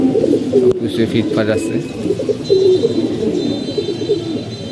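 Pigeons in a home loft coo in low, repeated, throaty bursts close by, while a person speaks over them.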